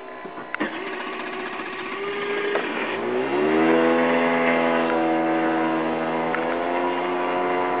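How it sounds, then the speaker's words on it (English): A moped scooter on a mountain road in Santiago de Cuba starts with a few clicks and sputters, then its small engine catches and revs up into a steady, rising buzz that holds close and loud. "I'm starting my scooter up"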